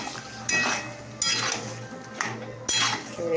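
Spices such as turmeric, chilli powder and cumin powder stirred in a cooking pot, four distinct scraping strokes of a utensil against metal with clinks, close and clear with a low cooking hiss beneath.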